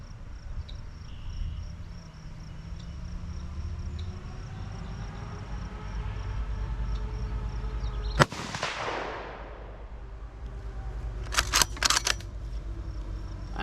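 A single close, sharp shot from a Ruger American Predator rifle in 6.5 Grendel at an outdoor range, cracking out over a steady outdoor ambience of insects, followed a few seconds later by a brief cluster of clicks.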